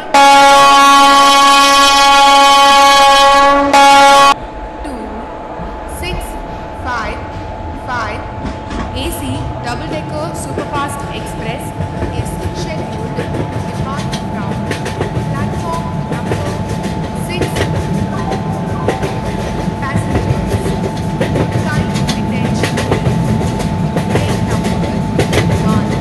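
A train rolls steadily in an Indian train simulator mobile game, with a continuous rumble and clatter after a brief tonal chime at the start, while a station announcement voice speaks over it.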